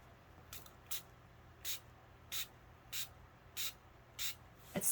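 A spray bottle mists activator onto slime in about seven short, evenly spaced hissing spritzes, close and fairly quiet against a soft background.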